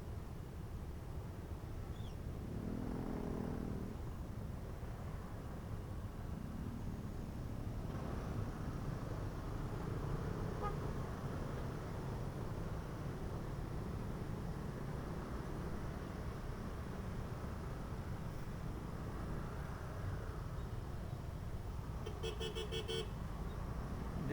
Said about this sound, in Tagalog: alam mo naman sobrang traffic. Busina ka pa dyan eh.